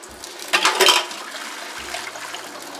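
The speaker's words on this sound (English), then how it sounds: "and pour the water down the sink" Water poured down a sink while pickling beets: a short gushing splash of about half a second near the start, then a quieter trickle and a faint hiss, with no talking.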